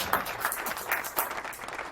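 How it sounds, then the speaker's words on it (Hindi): Applause at a Hindi comic poetry gathering: a crowd claps in a steady dense patter for about two seconds, moderately loud with soft bursts, and no voices over it. "एक बार जोरदार ताली भाई।"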